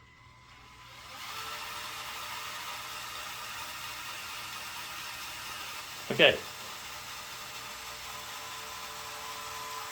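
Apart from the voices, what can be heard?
Lego Technic mower electric motors running engine and blade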